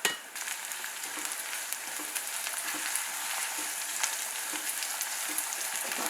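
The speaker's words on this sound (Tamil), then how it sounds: "இதில் வந்து அந்த பிரண்டையை நல்லா வதக்கணும்" Pirandai (adamant creeper), cut small, sautéing in a pan, giving a dense continuous sizzle with faint scattered crackles and stirring clicks throughout, with no voices.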